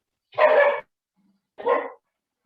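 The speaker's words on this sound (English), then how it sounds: "Can you hear the dogs?" Two loud, close dog barks ring out alone, separated by about a second of silence.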